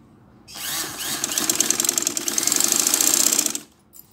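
A sewing machine stitches cloth for a doctor's coat, its motor running in a steady, fast whirring chatter for about three seconds, close and fairly loud, with no talking over it.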